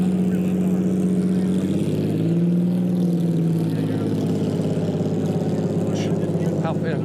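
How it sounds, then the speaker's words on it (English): Classic car engines, including Ferraris and a Jaguar C-Type, rumble and idle at the Pebble Beach Concours d'Elegance, making a steady, loud low drone close by that fills the whole stretch, with faint voices behind it. "Listen to the engines."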